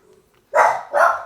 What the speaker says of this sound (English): Oh, now the dogs are gonna bark.